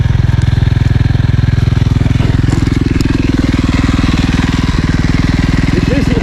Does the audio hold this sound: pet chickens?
no